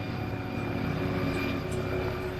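Constant loud rotor and engine roar of an air ambulance helicopter at a Yorkshire crash scene, steady and close throughout the short stretch with no voices.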